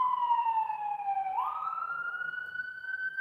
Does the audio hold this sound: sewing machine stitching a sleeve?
no